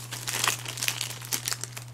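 A phone being slid out of a plastic bag, the plastic crinkling and rustling close up in quick irregular bursts for about two seconds, with no talking.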